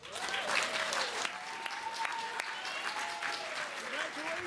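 An audience at a Connecticut Kid Governor inauguration gives the newly sworn-in Kid Governor a steady round of clapping. It is dense and sustained at moderate volume, with faint crowd voices beneath.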